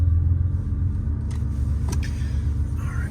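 A 1984 Porsche 911 Carrera Targa engine runs steadily and close by, a deep low rumble with a brief rise in revs partway through, no talk over it.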